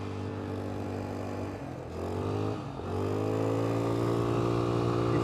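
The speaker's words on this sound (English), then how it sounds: "You hear that exhaust?" A small scooter engine idles with a throaty, street-legal exhaust note, then revs up twice in short bursts before settling into a higher, steady drone.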